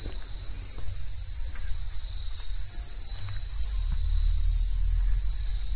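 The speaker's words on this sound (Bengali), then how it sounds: "অদ্ভুত স্নিগ্ধতা, সঙ্গে এই ঝিঁঝি পোকার আওয়াজ।" A constant high, shrill drone of crickets hangs over the quiet hills near Darjeeling, steady and unbroken with faint low rumble beneath and no talking.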